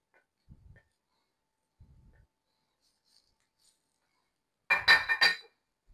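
Ripe mango slices set into a baking dish that just held oven-roasted snapper, a brief clattering clink near the end after a few soft, faint thumps in an otherwise quiet kitchen.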